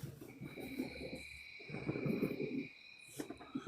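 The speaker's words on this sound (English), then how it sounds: "Oh, somebody's outside. I hear crickets." Crickets chirping outside give a thin, steady trill that holds through the whole stretch, with low hooting-like tones rising and falling beneath it.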